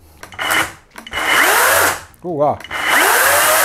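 Dedra 18V cordless battery chainsaw revved in three loud, close bursts of whining motor with rising and falling pitch, separated by short pauses; a person briefly exclaims between bursts.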